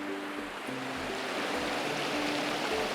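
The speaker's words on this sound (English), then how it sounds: "I've got this great little waterfall in front of me" Rushing river water at Caribou Falls spilling over a small waterfall, a steady broadband wash heard close and continuous with no talk.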